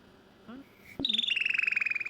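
A small pet bird chirps in quick repeated bright notes, a rapid rhythmic trill close by after a brief sharper call, with a person speaking softly just before.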